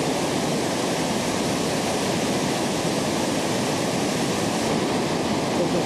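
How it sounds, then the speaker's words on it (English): Swallow Falls waterfall in Wales, heard from its base as a loud, dense, unbroken roar of falling water, close and constant with no talk. "Here I am at the bottom of Swallow Falls"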